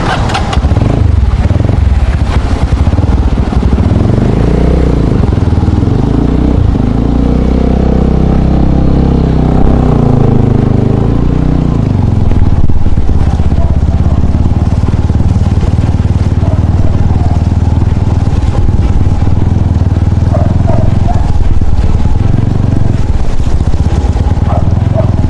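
Motorcycle ride heard from the bike, a loud close engine drone with rising and falling revs as it shifts and accelerates, wind noise throughout and occasional voices under the engine.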